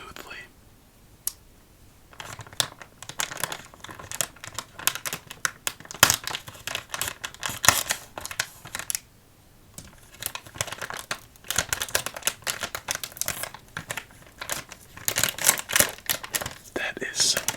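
Durable plastic candy packaging for jumbo Krabby Patties is worked open close up, with bursts of crinkling, crackling and sharp tearing and clicking that come and go in irregular clusters, with brief quiet gaps and soft speech between.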